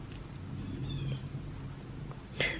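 A feral cat being trapped for TNR gives a short meow near the end, preceded by faint background noise and a brief higher chirp earlier.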